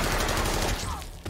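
Gunfire inside a room as players are shot dead, a short, loud burst of overlapping shots that blurs into a single roar and then quickly fades.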